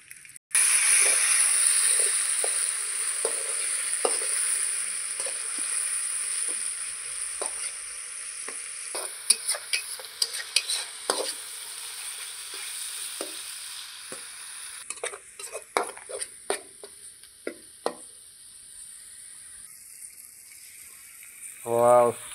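Chicken fries in village-style masala at a night campsite, a steady broad sizzle with intermittent stirring scrapes and clicks throughout, loud and close, with a brief voice near the end.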